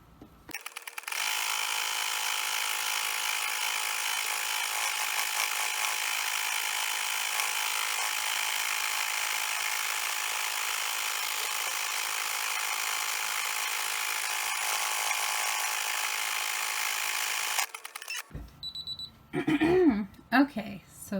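A home embroidery machine stitches a heart design, sped up into a continuous, dense mechanical buzzing whir lasting many seconds before stopping abruptly, after which a voice talks.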